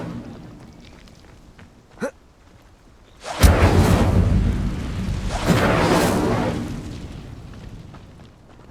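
A fire spell cast in Hogwarts Legacy erupts with a sudden whooshing roar after a quiet stretch and a brief pop, then burns loudly for several seconds before fading.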